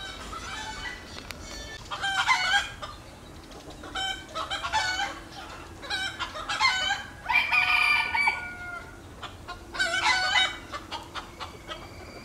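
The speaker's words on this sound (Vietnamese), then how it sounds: "Đây là gà sống rừng." Jungle fowl roosters at a farm garden in Nà Sản, Sơn La, crowing in several loud drawn-out calls with clucks in between, set against a quiet outdoor background.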